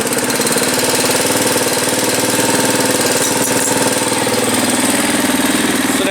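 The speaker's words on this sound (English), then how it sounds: "So now your Tbr7 is running with no key in the ignition." A Hawk250 / TBR7 motorcycle engine idles steadily and close by, hot-wired and running with no key in the ignition, a continuous even chug with a knocking pulse and no talk over it.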